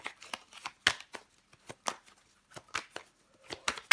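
Tarot cards shuffled and laid out during a French horoscope reading, giving a quiet run of brisk, crisp card flicks and slaps in irregular bursts, close by with no voice over them.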